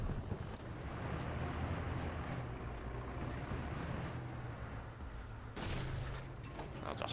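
Tank cannon fire from a BT-5 in the War Thunder video game: one sharp blast, then a long rumbling roar of engine and battlefield noise, and a second burst near the end.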